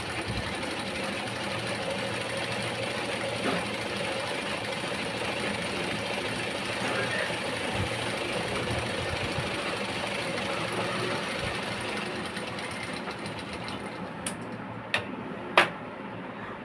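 Sewing machine running steadily while hemming a blouse, a continuous close mechanical whir with ticking, stitching half an inch along the bottom edge, then a few sharp clicks near the end.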